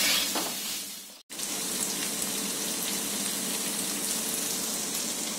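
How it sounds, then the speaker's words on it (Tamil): Paneer pieces sauté in a pan with sauces, giving a continuous loud sizzle and crackle that cuts out for a split second, then resumes just as strongly, with no voices. "நம்ம இந்த பன்னீர் பீசஸையும் இதில் ஆட் பண்ணிடலாம். இதுவும் நல்லா 1 நிமிஷம் சாட்டே ஆகட்டும்."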